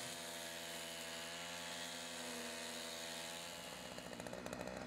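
A motor chainsaw running steadily at high revs, a loud continuous buzzing drone that sputters slightly toward the end, with no voices.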